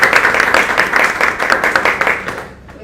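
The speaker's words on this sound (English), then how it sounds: "A huge round of applause for you." Audience applause at a Toastmasters club meeting, a dense run of clapping from a room full of people that holds steady and then fades out near the end.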